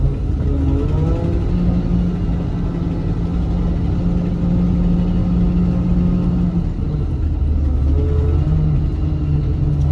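A 1984 Chevrolet Suburban's engine rumbles steadily from inside the truck as it accelerates, a deep continuous drone with the pitch shifting as the revs rise and settle.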